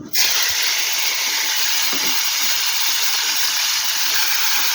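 Soaked, salted and turmeric-rubbed dried fish (loita shutki) dropped into hot mustard oil: an instant loud hiss settling into a steady, close, dense sizzle with no talk.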